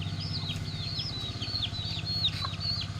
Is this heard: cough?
no